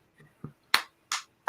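Scattered sharp claps from one person, about four separate smacks spaced roughly a third of a second apart, crisp and fairly close, with no talking.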